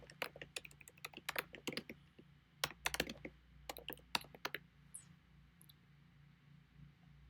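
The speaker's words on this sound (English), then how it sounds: "I'm typing that right now." Fast bursts of keystrokes on a computer keyboard, close and clear, in irregular clusters with short pauses, then trailing off into quiet room tone near the end.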